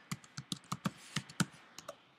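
Password being typed on a Mac keyboard: about a dozen crisp, close key clicks in an uneven rhythm, with no voices.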